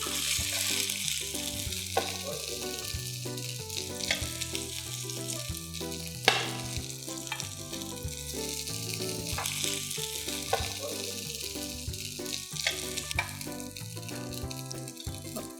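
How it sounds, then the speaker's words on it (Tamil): Chicken pieces for homemade shawarma sizzle and fry in a pan over medium heat, a continuous close crackle with occasional scrapes and stirring clinks, no talking. "ஸோ மிதமான தீயில் வச்சு குக் பண்ணி எடுத்துக்கலாம்"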